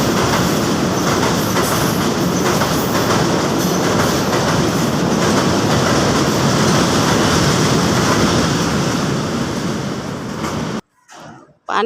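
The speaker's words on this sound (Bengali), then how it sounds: "ট্রেন যাচ্ছে, আমি তো ভয়ে অস্থির।" A train rolls past near a walker on a path with a water current flowing below, its loud, continuous rumble and clattering wheels filling the air for about eleven seconds before cutting off abruptly.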